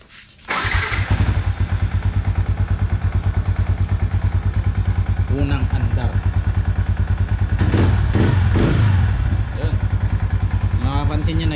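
A Yamaha Sniper 150 motorcycle engine with an aftermarket MVR1 ECU starts and idles with a rapid, steady thumping pulse, rising briefly as it revs, while a person talks over it.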